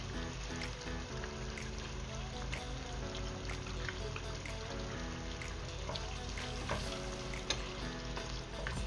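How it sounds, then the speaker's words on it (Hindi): Cream stirred into a white chicken handi in a pan, with a steady soft sizzle and the scrape of mixing running throughout, close and continuous with no break. "ये जो क्रीम है वो शामिल कर दूंगी।"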